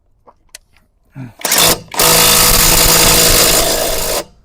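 ELTOS cordless brushless impact wrench running a nut back on, a few short trigger taps followed by a loud, sustained hammering burst of about two seconds that stops abruptly.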